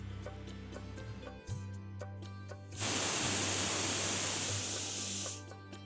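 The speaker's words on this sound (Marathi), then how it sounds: "आता कुकरला 3 शिट्ट्या काढून घेऊया" A pressure cooker of potatoes on a gas stove lets out a loud, steady hiss of steam lasting a few seconds, following a low hum and light ticking.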